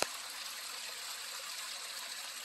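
A small waterfall at Little Falls near Silent Lake in November makes a steady, soft rushing hiss of flowing water, continuous and fairly distant, with no voices.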